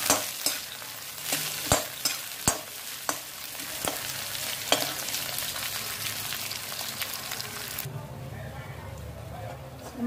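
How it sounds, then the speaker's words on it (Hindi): Onion, ginger and green chili masala for stuffed tinda sizzles loudly in a pan, with sharp spoon knocks in the first few seconds, then a dense steady frying hiss that drops away sharply near the end. "अब इसमें प्याज डालेंगे। अदरक और हरी मिर्च भी साथ में डाल देंगे और इसको अच्छी तरह से ब्राउन कलर का कर देंगे पूरे मसाले को।"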